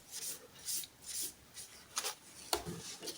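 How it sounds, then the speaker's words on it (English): Soft paper rubs over pencil shading on a drawing to blend it, making faint, intermittent swishing strokes in short bursts, quiet and close. "You can even use some soft paper to blend the shade."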